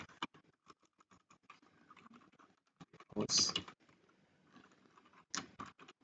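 Code is typed on a computer keyboard in quick, uneven bursts of close, light key clicks, with a louder flurry partway through and short pauses between runs.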